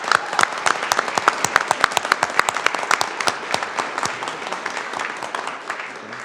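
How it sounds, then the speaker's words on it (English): Audience at a city council meeting giving a round of applause, many hands clapping in a crisp, dense rhythm that starts strong and gradually thins out over several seconds, with no voices over it. "So give them a round of applause."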